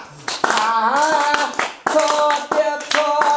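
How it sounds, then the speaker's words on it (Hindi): Hands clap in a steady beat alongside a sung devotional tune to Bhola Baba, sharp close claps spaced under a strong singing voice. "ताली मारे जाय छी"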